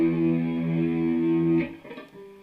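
An electric guitar plays a short, slightly driven chord from a song intro, ringing for about a second and a half before fading into a few quieter plucked notes.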